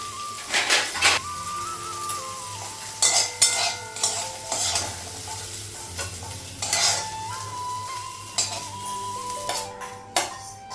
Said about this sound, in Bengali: করলা ভাজাটা হয়ে গেছে, বের করবো।